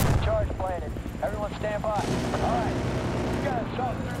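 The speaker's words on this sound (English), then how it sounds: "Ooh, I hear grenades." Booming grenade blasts and gunfire in the shooter game Battlefield Bad Company 2, a steady rumbling din of combat that runs the whole time under a voice.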